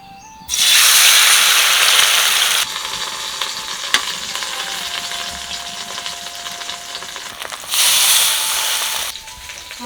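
Ash gourd fritters drop into hot oil in a wok and sizzle loudly in two strong bursts, with a steady quieter crackle of frying in between.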